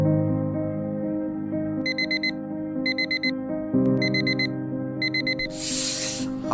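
A 4 a.m. alarm clock rings with bursts of high electronic beeping in four evenly spaced groups, sounding over a sustained tonal musical background, followed by a brief hissy rustle near the end.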